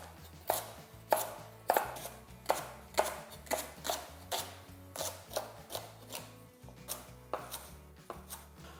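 A knife chops vegetables coarsely for mirepoix on a board, a steady run of about fifteen sharp, evenly spaced thuds, close and clear with no talk.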